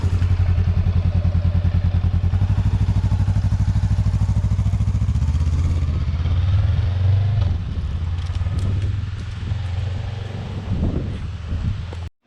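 A Honda Rebel motorcycle engine chugs loudly and steadily nearby for several seconds, then fades as the bike rides off on a quick test ride, leaving thumps and clatter.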